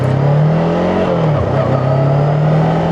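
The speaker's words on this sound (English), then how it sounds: "quite a grunty little motor, plenty of torque there" A Voge 500AC twin-cylinder motorcycle engine revs up with a low, throaty drone that rises and dips, close and loud, with no talking.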